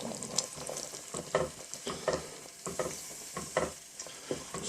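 Ground white pepper stirred into a pan of hot and sour soup: a spoon scrapes and swishes in uneven strokes, close and fairly quiet, with a soft simmering hiss underneath and no talking.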